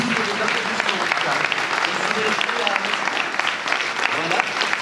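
Audience applause fills the room, steady and dense throughout, with scattered voices and cheers mixed into the clapping.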